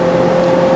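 A 2018 Audi RS4 B9 on the Paul Ricard circuit holds a loud, steady, strained engine note pinned at the rev limiter, one brief unbroken burst heard from inside the car.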